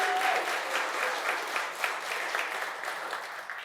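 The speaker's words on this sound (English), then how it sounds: "they all deserve a round of applause" A crowd applauds steadily throughout at an AI demo day, dense clapping at moderate distance with no pauses.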